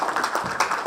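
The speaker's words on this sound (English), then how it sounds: "thanks guys for clapping for me" Audience applause for a panel speaker at a Web3 panel discussion, a brief burst of dense, steady clapping from a crowd, moderately loud and close, with no talk over it.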